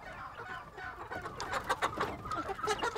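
Chickens on a farm in Benin, local free-range birds, cluck and squawk steadily at close range, growing busier and louder toward the end, with no voices present.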